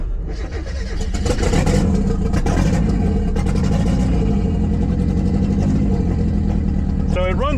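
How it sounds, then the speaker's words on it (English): A Mazda Miata engine fitted with new Deatschwerks fuel injectors runs loudly and close, a dense steady drone with slight unevenness, and a voice talks over it near the end. "And it actually fires up, and it runs pretty halfway decent, really,"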